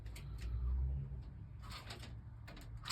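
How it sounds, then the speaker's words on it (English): A pigeon coos nearby, with a soft low burst early on, followed by faint scattered clatter and rustling in a quiet indoor-sounding space. "I like watching the pigeons"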